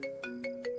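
A phone rings in short repeated electronic tones, four bursts in under a second, clear and close with no one speaking.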